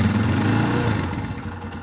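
A Yamaha Scorpio Z motorcycle engine runs at high revs, a loud steady mechanical drone close by that eases slightly toward the end, with no talking.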